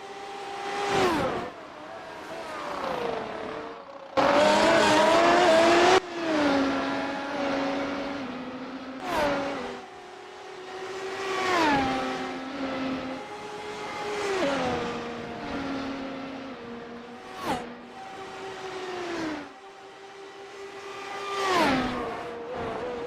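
Race cars roar around a mountain circuit in the iRacing sim, engines climbing and dropping in pitch through repeated gear shifts, with one loud close pass partway through and fainter cars trailing behind.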